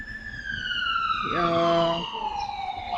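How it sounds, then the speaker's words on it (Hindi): Ambulance siren wailing in a street in central Israel, sustained tones sweeping steadily and loud throughout, with a brief lower horn-like burst in the middle. "ये एम्बुलेंस है, ये सायरन नहीं है।"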